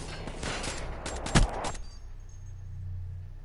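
Burst of gunfire from a shooter video game, a rapid cluster of sharp shots with one louder crack near the middle, followed by quieter game ambience and no talk.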